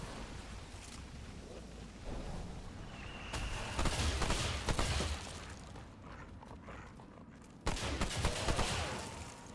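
Bursts of gunfire from a gun in the game Remnant II, several sharp shots clustered in volleys over a low rumbling background, fairly faint overall with a louder burst near the end.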